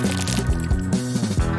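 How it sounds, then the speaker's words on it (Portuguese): Water poured into a DIY toy toilet at a craft table, a loud, close wet squishing and gurgling with crackly bursts running throughout, no talk. "Agora basta adicionar água."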